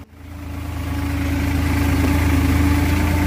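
A New Holland tractor engine running at a steady idle on a rice farm, a deep continuous low rumble with a faint rhythmic pulse, close and alone, swelling slightly at the start.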